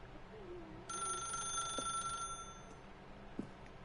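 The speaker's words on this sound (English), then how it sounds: "then pick up the phone." A telephone rings in the video game The Stanley Parable, a bright electronic ring lasting about two seconds over quiet room tone, followed by a couple of soft clicks, with no talking.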